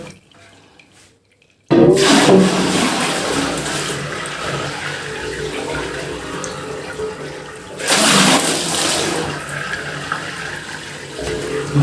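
Water gushes loudly and steadily from a tap into a tub during home laundry, starting abruptly after a quiet moment and swelling again later, with no talking.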